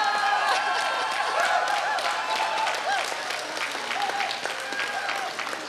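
A large audience at a Korea University alumni choir festival claps steadily, a dense wash of applause filling the hall with a slight fade toward the end.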